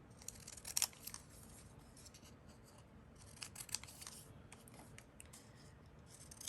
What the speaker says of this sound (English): go ahead and cut the edges